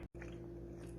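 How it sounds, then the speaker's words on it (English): A single crunchy bite into homemade focaccia bread, close and crisp right after a brief silence, followed by faint chewing with a steady hum behind. "Little crunch test. Sounds crunchy."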